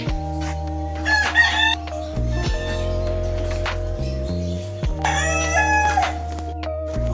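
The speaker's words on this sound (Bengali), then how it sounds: "এত বড় মুরগি, ওরে বাপরে, কত বড় মুরগি" A large rooster in a park in Malda crowing loudly and close, two full crows separated by a pause, over a steady low hum, with no talk.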